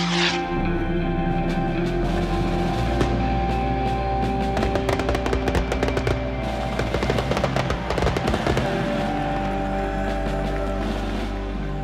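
Fireworks go off in rapid succession, a dense crackling barrage of sharp pops and bursts over a continuous low rumble, intensifying toward the middle before thinning out.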